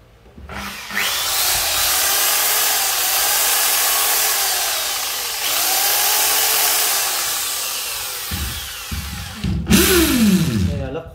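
A Makita two-function wood drill runs at a steady high whine, spinning down briefly around the middle and near the end before revving up again, close and loud with no talk.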